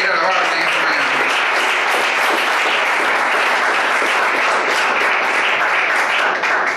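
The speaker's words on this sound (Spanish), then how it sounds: "Bríndele fuerte el aplauso a Jesús si quiere alabar en esta" Loud, dense applause from a church congregation during a Spanish-language worship service, continuous clapping at full volume, holding steady throughout without a break.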